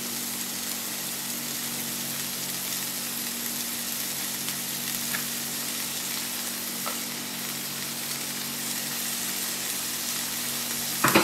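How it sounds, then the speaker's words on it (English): Bacon frying in a pan, a steady continuous sizzle and crackle at even volume for over ten seconds with a low hum beneath and a brief knock at the end, no voices. "I'll be back once this bacon is cooked a little bit"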